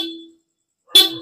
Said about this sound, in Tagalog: try natin horn.